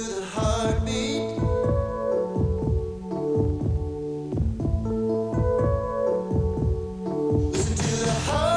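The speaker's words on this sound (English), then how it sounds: "Listen to the heartbeat." A steady, loud heartbeat thumps in a regular double-beat rhythm over a low hum, running through a television ad during a college basketball broadcast.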